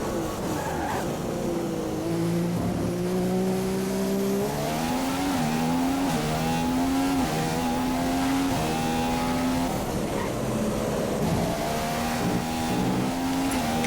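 McLaren Formula 1 car engine at race pace in the F1 2015 video game, a loud high whine rising through the gears with brief drops at shifts, continuous and alone.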